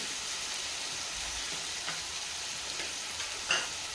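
A pan of spinach-and-dal preparation being sautéed, giving a steady broad sizzle throughout, broken by a few light scrapes and one sharper clink of a spoon against the pan late on, with no talking.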